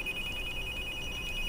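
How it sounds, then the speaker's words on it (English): A telephone rings faintly and steadily on a hunting outing, its electronic tone sustained for a brief moment with no voices over it. "I gotta get this phone off."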